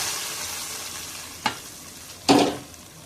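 Hot tadka is poured onto haleem with two sharp sizzles, a brief crackle followed by a louder, longer hiss that fades, all set against a quiet kitchen.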